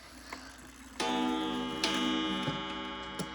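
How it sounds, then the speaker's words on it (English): A chiming clock obtained from a clock repairer rings out close by, a sustained resonant chime starting after a brief ticking lead-in and struck again several times as the tones ring and decay, with no talking. "I actually got this clock from a clock repair guy. And yep, this is what the chimes sounded like."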